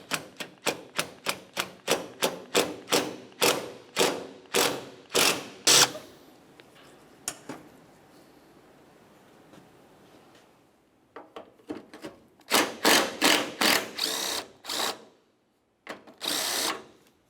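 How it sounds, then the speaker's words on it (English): Rapid bursts from a power tool and ratchet backing out three 10mm bolts on a 2009-2010 Pontiac Vibe during headlight removal, loud close spinning runs separated by a quiet pause, then more bursts near the end. "we can continue on to removing our three 10mm headed bolts"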